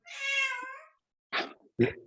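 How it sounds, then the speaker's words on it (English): A domestic cat gives one clear, drawn-out meow up close, followed after a pause by two short, sharper chirping calls. "Is your cat giving the talk today, Chris?"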